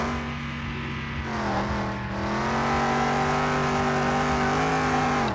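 A 1969 Chevy Nova in Car Mechanic Simulator 2021 revs hard on a race track, its engine note climbing and holding a strong, steady drone with clear harmonic tones, close and loud throughout.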